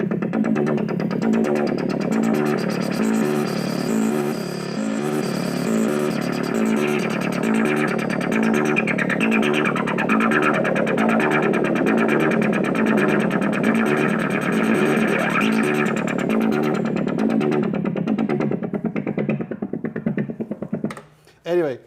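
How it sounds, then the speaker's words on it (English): A loud, distorted synthesizer pulses in a driving repeated pattern, dense and throbbing, then cuts off abruptly near the end. "Anyway, very nice, aggressive sounding synth."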